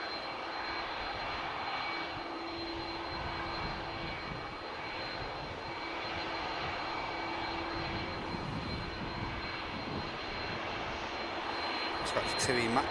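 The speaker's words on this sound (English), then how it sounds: "looks like this Aer Lingus could be continuing the taxi in a moment" An Aer Lingus airliner taxis at Manchester Airport, its engines giving a steady, moderate whine and rumble with a faint tonal hum that swells slightly near the end.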